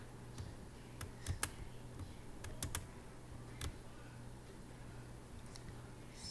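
Numbers typed on a computer keyboard as a handful of sharp, separate key clicks, some in quick pairs, set close against a low steady hum, with no voices.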